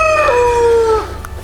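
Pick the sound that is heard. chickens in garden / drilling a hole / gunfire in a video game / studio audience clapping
chickens in garden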